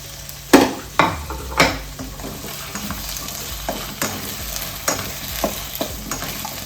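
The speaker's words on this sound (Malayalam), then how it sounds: "ഇത് ഇതുപോലെ ഒന്ന് വഴറ്റട്ടെ." Tuber pieces and drumstick pods are sautéed in a pan over low heat for an old-style Kerala meal. Several sharp scraping stirs ring out near the start, then a steady soft sizzle with occasional quieter stirring clinks.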